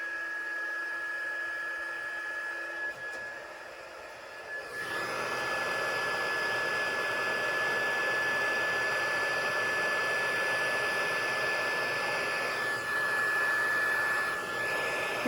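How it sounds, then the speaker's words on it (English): An embossing heat gun used for craft gold leafing switches on partway through and settles into a steady, loud blowing whir with a high whine, running without a break to the end. "bear with me while I turn on my heat tool."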